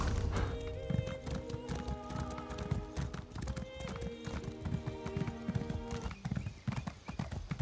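Horse hooves clip-clop in a steady rhythm as a mount is ridden slowly in the video game Elder Scrolls Online (ESO), continuous and close throughout.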